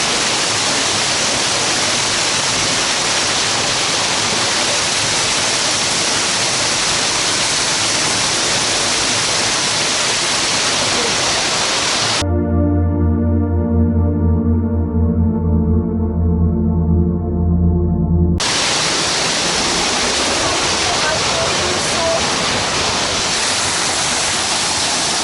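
A loud, steady broadband roar of a waterfall near a cave, with the rush briefly cut out midway and replaced by a low humming tone before the full roar returns; no one speaks.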